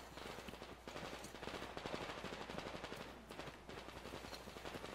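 Dense machine-gun fire rattles without pause in Metro Exodus, a steady rapid barrage of shots heard at low volume with no talking.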